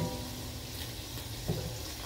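Onions sizzle and fry in a pan alongside turkey chops, a steady soft hiss with a brief stir partway through.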